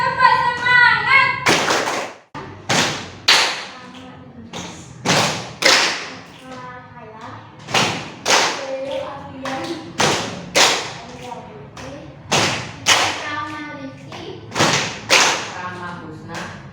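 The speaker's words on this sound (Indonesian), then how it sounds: "Sekali lagi, tepuk semangat." A classroom of pupils does a rhythmic group spirit clap: sharp bursts of unison claps in repeating patterns, loud and close, alternating with a teacher's voice speaking and chanting between the rounds.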